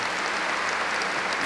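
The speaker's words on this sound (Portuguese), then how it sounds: "uma salva de palmas" A church congregation at a Catholic Mass breaks into applause, a dense, steady wash of clapping filling the space evenly for a brief moment with no voices over it.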